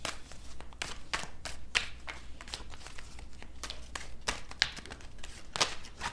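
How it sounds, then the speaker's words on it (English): Rapid riffling and flicking of tarot cards in repeated bursts, close and crisp, with soft tapping between shuffles and no voices. "3 more shuffles."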